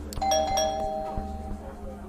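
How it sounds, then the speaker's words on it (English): A small shop door bell in Vampire: The Masquerade – Coteries of New York chimes as the door opens, a bright ring with a couple of quick repeats that fade out over a low background murmur. "a little bell rings when you open the door"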